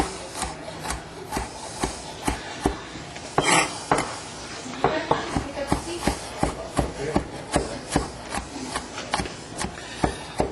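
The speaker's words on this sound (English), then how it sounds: "Okay, let's get this garlic chopped up." Garlic being chopped with a knife on a board, a steady run of close, crisp chopping taps at an even rhythm with brief rustles between strokes.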